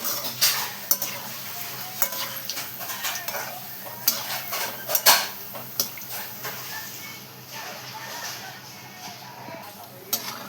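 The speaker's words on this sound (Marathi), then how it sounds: "हे बघा दुसरे पण भजी अशी मस्त इथं टाकून घेतलेले आहेत" Bhaji fritters of onion batter frying in hot oil, a continuous bubbling sizzle broken by sharp clinks and scrapes of a metal spoon stirring and lifting them, near and moderately loud, with no talk.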